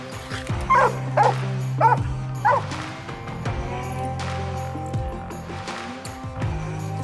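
Walker and Mountain Cur coonhounds baying on a coon hunt, a few loud, drawn-out howling bawls near the start, then a fainter mix of yips and whines.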